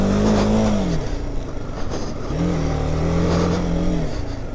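A BMW G310R motorcycle engine drones while riding, its tone rising and falling in two clear revving swells, close and fairly loud over steady wind and road noise.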